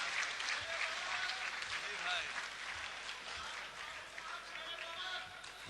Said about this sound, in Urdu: اس مشاعرے کا مکمل مرد ڈاکٹر راحت اندوری سے میں درخواست کر رہا ہوں کہ تالیوں سے استقبال کیے